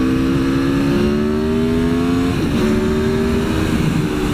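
An Aprilia Tuono V4 1100 motorcycle engine revs loudly up close, a growling tone climbing in pitch, dipping briefly, then pulling again, with no talk.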